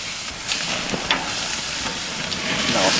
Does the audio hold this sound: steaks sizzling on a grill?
yes